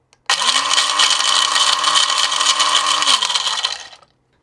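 An electric grinder whirring through chai spices, a loud, steady high-pitched motor whine with rattling grit that starts sharply, holds for about three seconds, then spins down and stops.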